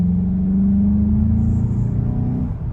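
Synthetic race-car engine note piped through the cabin speakers of a 2021 Volkswagen GLI with DSG gearbox, a steady, loud low drone that rises slightly in pitch and holds for a few seconds with no talking.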